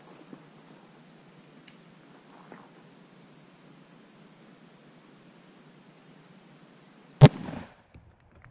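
A 300 PRC rifle fires a Federal 200 gr Edge TLR low velocity round into ballistics gel outdoors: one sharp, loud shot near the end, followed by a brief rumbling tail after a long stretch of quiet ambience.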